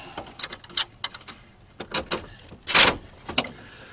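A screw being driven into the dash of a 1979 Chrysler 300, heard up close: scattered sharp clicks and rattles, then a brief louder whirring burst, with no voices.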